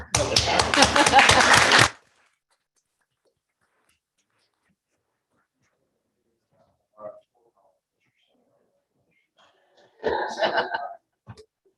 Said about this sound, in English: Should we applaud?